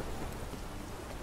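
Steady rain falls in The Witcher 3, a dense, even hiss of downpour that stays loud and unbroken throughout, with no voices over it.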